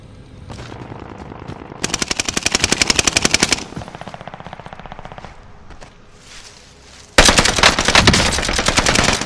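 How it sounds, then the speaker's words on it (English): Automatic machine gun fire in the video game Call of Duty: Warzone: loud, rapid bursts of rattling shots, with a quieter stretch of distant gunfire between them and a final sustained, heavy burst. "The enemy is firing at me!"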